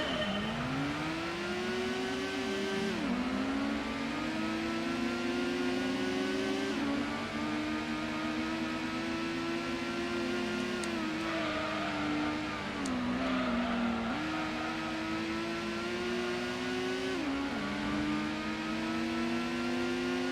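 A Toyota Supra race car engine in Gran Turismo 1 roars steadily through a five-lap race, revving up and dropping through repeated gear shifts with a constant loud drone and no talk.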